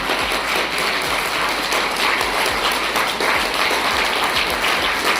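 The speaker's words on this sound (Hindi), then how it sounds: "तालियां खुल के बजा लो" A seated audience at a Brahma Kumaris goodwill gathering claps loudly and steadily, a dense, unbroken wash of many hands that fills the whole stretch without any voice over it.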